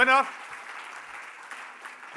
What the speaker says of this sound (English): Let's give them a big round of applause before reading the winner.